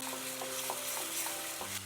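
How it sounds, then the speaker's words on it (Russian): Tomato paste and sugar stirred in a frying pan, with a steady sizzle and soft repeated scraping strokes of the utensil, close and continuous. "И теперь все перемешиваю."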